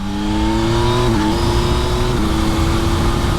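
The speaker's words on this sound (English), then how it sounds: "You'll hear the quick shifter there" A 2023 Yamaha Tracer 9 GT motorcycle engine revs high, loud and steady, with brief dips in pitch as the quick shifter changes gears, then keeps pulling hard.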